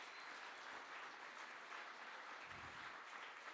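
Audience applause at PorcFest XXII, a live outdoor liberty gathering, heard as a steady, faint wash of distant clapping with no voices on top.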